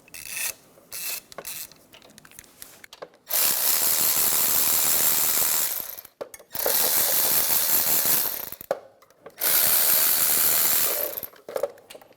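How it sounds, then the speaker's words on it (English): A ratchet wrench with a 17mm socket loosens wheel bearing bolts on a 2014-2019 Toyota Highlander rear hub, giving three loud sustained rasping ratchet bursts separated by short pauses and faint clicks. "using a 17mm. There's 4 of them. I'm going to loosen all of mine up."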